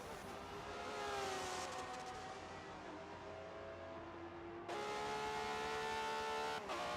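Hypercar engine over-revving down the straight at Circuit of the Americas at night in a racing game, a steady high-pitched whine with rising tonal harmonics and a sharp gear change partway through, alone with no voices.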